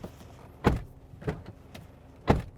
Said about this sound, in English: Able to open and close the door.